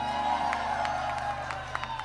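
Concert crowd at a live show applauding a performer, a steady wash of clapping and scattered cheers with a faint musical hum beneath, a few sharper claps standing out near the end.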